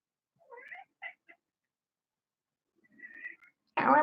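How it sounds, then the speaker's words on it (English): A cat meows indoors in several separate calls: a couple of short chirping meows early on, a pause, then a longer drawn-out meow, closing with a loud burst of noise. "Can you hear him meowing?"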